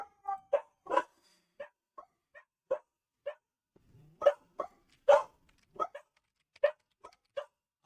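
A dog barks in a rapid series of short, sharp barks and yips, fairly close and loud, in uneven bursts with brief silences between.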